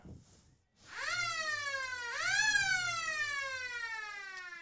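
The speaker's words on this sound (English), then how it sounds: "we're sitting right underneath the siren here at the Eastern Oval" A loud quarter-time siren wails at the Eastern Oval during an East Point versus Bacchus Marsh football match, heard from right beneath it as a long rising tone that swells again and holds.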